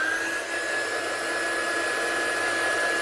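A hair dryer runs over a watercolour card, a steady airy roar with a thin whine that carries through the whole brief moment.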